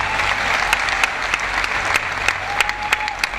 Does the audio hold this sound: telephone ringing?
no